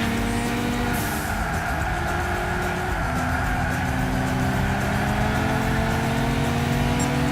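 Car engine in the racing game Gran Turismo 6, a loud, steady drone with sustained engine tones rising and falling through gear changes, continuous across the whole stretch without speech.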